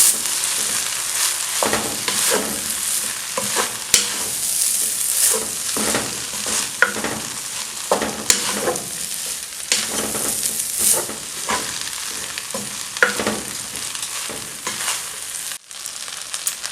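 Pineapple is stirred through fried rice in a frying pan, with repeated scraping strokes of a spatula over a constant close sizzle, steady in rhythm and loud.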